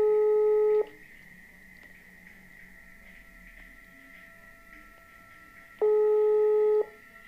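Telephone tone in a horror video game, two steady electronic bursts about a second long separated by several seconds of quiet, with no talk.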